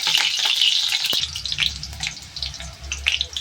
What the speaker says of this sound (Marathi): मिरची टाकले तेलामध्ये